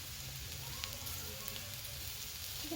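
Potatoes fry in a small amount of oil, giving a steady, close crackling sizzle that carries through the whole moment with no talking.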